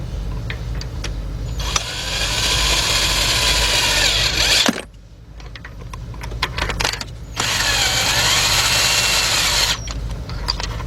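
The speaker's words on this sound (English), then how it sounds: "get our cordless gun, and we're gonna slowly go down till it stops" A cordless impact gun spins out spark plugs on a Hyundai XG350, Santa Fe or Kia Amanti, two long, loud, steady whirring bursts close by, broken by a short pause of quieter clicks and handling noise.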